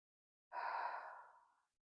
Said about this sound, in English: Just taking a breath here.